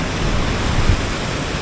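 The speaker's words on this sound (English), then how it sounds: "See that, and the waterfalls just go down." Waterfalls tumble down the steep slopes along Norway's Troll Road, a steady broadband roar of rushing water heard from a viewpoint, dense and continuous.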